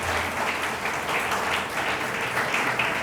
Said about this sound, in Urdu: اس کے لیے زوردار تالیاں بجائیں.